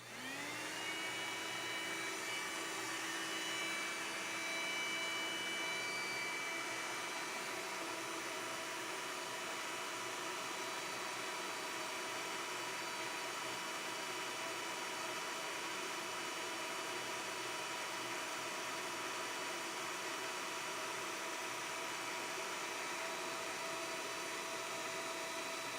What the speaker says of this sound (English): let me have the brush spinning